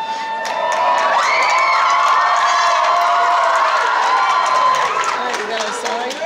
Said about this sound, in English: I want you to get ready to cheer on your favorite team.